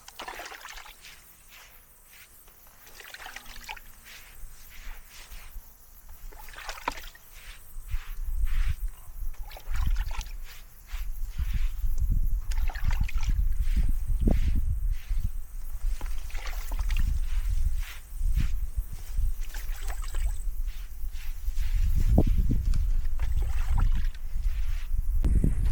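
Horses being hosed down with water on a warm day before an endurance ride, a steady spraying and splashing rush with bursts of pouring and trickling, fairly close and continuous.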